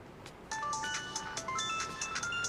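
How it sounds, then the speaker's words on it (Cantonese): Mobile phone ringtone chiming in a bright electronic melody of short sustained tones that starts about half a second in and keeps going steadily, clear and alone with no talking. "你電話就響㗎啦"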